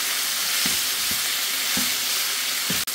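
Chunks of chicken sizzle in a pan for kung pao chicken, a steady close crackle with a few soft clacks of stirring and one brief sharp tap near the end, with no one talking.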